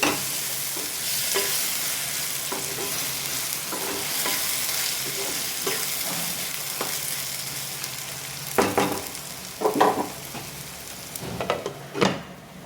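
Brinjal curry with ginger garlic paste being mixed in a pan: steady sizzling under repeated scraping stirs, growing louder and busier toward the end, no talking.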